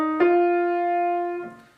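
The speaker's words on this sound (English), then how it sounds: "So if you take any minor scale, the first four notes would sound like this." Four sustained single notes from a pitched instrument, the opening of a minor scale, each held and ringing clearly on its own with no talking.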